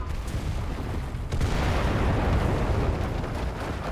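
Bomb explosion in a video game, a dense rumbling roar that swells after a second and holds steady, low and heavy with no speech over it.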